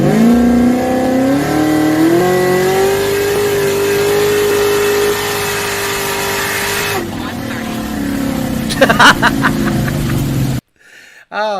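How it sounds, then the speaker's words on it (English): A recorded Ford Mustang GT500 accelerating hard from 60 to 130 mph, its engine note rising loud and steady through gears with brief shift breaks, then cutting off near the end. "This is the 60 to 130 from the GT500."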